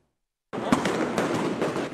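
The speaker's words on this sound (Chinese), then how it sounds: "仰光街头枪声大作" Rapid gunfire crackles on a street in Yangon during a crackdown on anti-coup protesters, a loud burst of sharp cracks that starts abruptly after silence and continues in quick irregular volleys.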